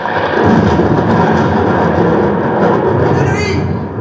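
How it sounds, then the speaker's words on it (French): Thunderous storm effect in a stage play of Pinocchio, a loud continuous rumbling roar that stays dense and steady throughout, with no voices over it. "De nuit, une tempête imprévisible survola la région."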